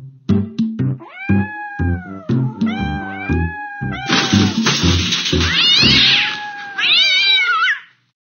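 Two scared cats in a tree in a counting math learning game meow repeatedly, loud and close, with rising and falling cries running continuously and alone.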